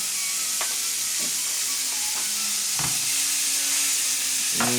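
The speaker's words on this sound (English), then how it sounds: "That sizzle." Steady loud sizzling and crackling from meat in a hot pan, with a few soft scraping stirs breaking through the continuous hiss.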